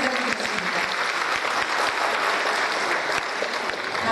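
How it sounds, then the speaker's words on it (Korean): An audience applauds steadily at a unification concert in a hall, dense clapping filling the space at an even level for a few seconds, with no voices heard over it. "네, 박수 부탁드리겠습니다."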